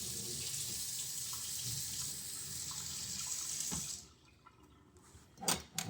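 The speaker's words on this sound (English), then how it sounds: "We're going to set this down and rinse this off." Tap water runs steadily into a sink while equipment is rinsed during maple sugar making, a continuous close hiss that cuts off near the end, followed by a few clinks and handling noises.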